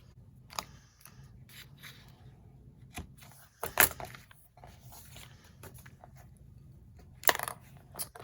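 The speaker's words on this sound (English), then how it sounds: "And I'm going to cut this out." Scissors snipping out a paper template for 3D hawk glasses, with sparse, irregular close cuts and rustles, a few sharper louder snips standing out over near silence.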